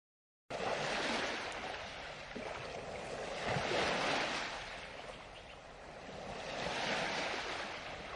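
Steady roar of wind and surf on an open shore at Blyth Beach, rising and falling in broad swells with rumbling buffeting on the microphone.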